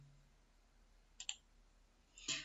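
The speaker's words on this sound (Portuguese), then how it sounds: "vou dar um duplo clique aqui" A computer mouse double click, two quick faint clicks close together in a quiet room, followed by another soft click a second later.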